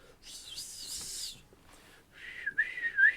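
A person whistles loudly, first a long sustained shrill tone with a wavering pitch, then after a pause a second rising, warbling whistle, close and alone with no talking.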